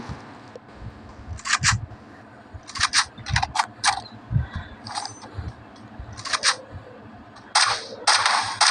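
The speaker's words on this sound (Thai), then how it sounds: "น้องก็พยายามยิงนะครับทุกคนตอนนี้ แล้วก็ โดนยิงไปสองนัดเนาะ" Gunfire in the Free Fire mobile battle game comes as sharp, bright cracks in short bursts and single shots, some doubled, spread irregularly over a low rumbling game background with no talking.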